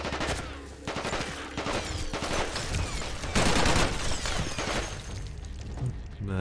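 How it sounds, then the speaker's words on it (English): Sustained automatic gunfire in the shooter Terrorist Takedown 2, loud rapid volleys with bursts of crackling impacts and debris, continuing without pause. "if they weren't shooting at me, I wouldn't be shooting this place up"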